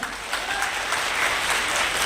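Sustained applause from an audience at a voter awareness festival held in an Ayurvedic college hall in Udaipur, a steady dense wash of clapping with no voices on top.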